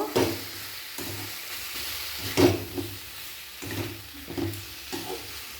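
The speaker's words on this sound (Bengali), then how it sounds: "ভালো করে মশলা কষে নেব এরপর টমেটো কুচি দিয়ে দেব তারপর খুব ভালোভাবে টমেটো" Spices and chopped tomatoes being sautéed in a pan for a spicy omelette curry, with a steady low sizzle broken by several scraping stirs of the spatula against the pan.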